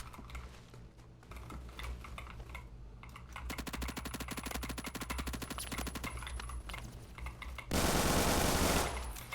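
Rapid automatic weapon fire in the Phantom Forces shooter game, long sustained bursts of machine-gun rattle with a brief louder burst near the end, no talking.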